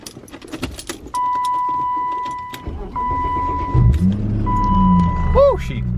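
BMW E36 engine cranking and catching after keys jangle and a whirring electric sound, then settling into a low running rumble with a brief rev, while a person speaks nearby.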